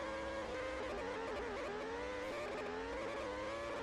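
A race car in a sim racing game slides off the track at Oulton Park with a steady, strained engine note that wavers in pitch as it runs wide. The sound is continuous and fairly faint, with no talk over it.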